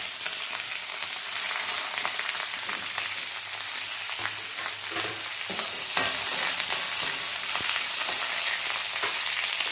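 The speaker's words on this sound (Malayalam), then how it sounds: "കടുക് പൊട്ടിയതിന് ശേഷം അതിലേക്ക് കറിവേപ്പില പിന്നീട് അങ്ങനെ ഒരു മൂന്ന് സവാള അരിഞ്ഞ് വെച്ചിട്ടുണ്ട് അതുകൂടി ചേർത്ത് കൊടുക്കുക" Sliced onions frying in hot oil with popped mustard seeds and curry leaves for poori masala, a steady close sizzle with crackles and occasional stirring scrapes throughout, no talking.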